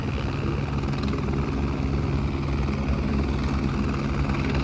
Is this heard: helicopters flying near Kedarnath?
yes